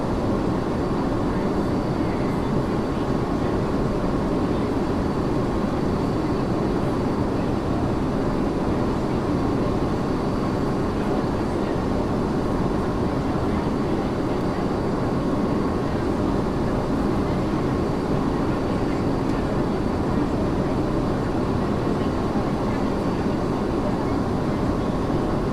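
Airbus A220 cabin noise during descent to land, on a flight from New York Kennedy to Cincinnati: a steady, loud, unbroken broadband roar that holds evenly throughout.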